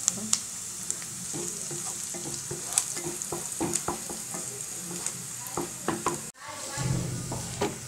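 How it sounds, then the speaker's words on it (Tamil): Onions sizzle and crackle in hot oil with curry leaves, the steady frying hiss broken by scattered spatters and a brief pause near the end before a louder burst of sizzling returns, with no voices. "எண்ணெய் காஞ்சிடுச்சு வெங்காயம் போடலாம்"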